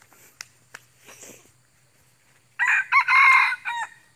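A rooster crows loudly and close by at a mountain campsite, one long broken cock-a-doodle-doo near the end after a few faint clucks and rustles.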